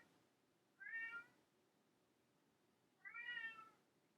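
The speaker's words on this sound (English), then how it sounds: "that's my cat Rocky" Rocky, a pet cat, gives two drawn-out meows, each lasting about half a second, spaced a few seconds apart and moderately close in a quiet room.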